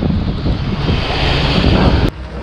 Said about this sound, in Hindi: यहाँ पे देखिए बारिश जिस तरीके से हो रहा है